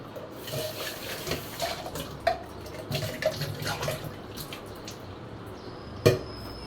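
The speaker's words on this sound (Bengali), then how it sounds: "তো চলো আমি কৌটাগুলো ধুয়ে নিই।" Plastic containers are rinsed under a running tap, with a steady splash of water, irregular sloshing and light plastic knocks, and one sharper clunk near the end, close by with no talking.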